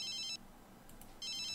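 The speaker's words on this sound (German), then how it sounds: "Das Telefon klingelt." A phone rings in The Sims video game, two bursts of a bright electronic trill separated by a short pause, sounding alone at low level.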